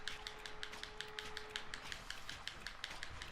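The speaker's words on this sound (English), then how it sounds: "Me furiously clicking away the buttons." Rapid, furious clicking of game controller buttons during a Monster Hunter World mount, a fast stream of light taps continuing steadily and faintly throughout, with no talking.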